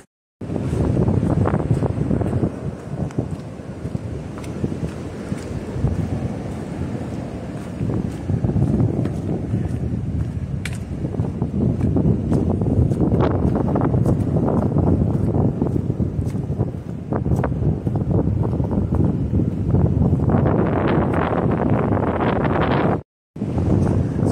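Strong, continuous wind buffets the microphone on the Appalachian Trail on a bitterly cold day, a loud roaring gust noise that rises and falls throughout with no break, briefly cutting out near the end.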